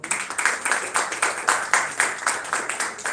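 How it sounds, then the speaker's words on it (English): Steady applause from an audience at a film festival award ceremony, a dense, even patter of many hands clapping continuously with slight pulsing swells, no voices over it. "Please give a round of applause."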